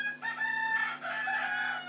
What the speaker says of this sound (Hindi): अबे ये मेरा मुर्गा को आज क्या हो गया?